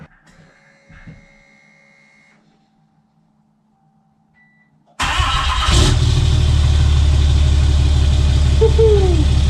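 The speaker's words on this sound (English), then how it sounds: "Here we go, first startup" A tuned 2005 Cummins RAM diesel truck engine fires up after a quiet stretch of faint clicks, then settles into a loud, steady, rumbling idle close by.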